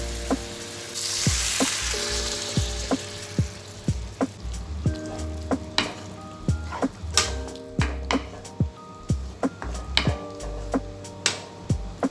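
Tomato, onion and garlic fry in a pan for a mung bean dish, a steady close sizzle broken by repeated clinks and scrapes of a utensil stirring at an uneven rhythm.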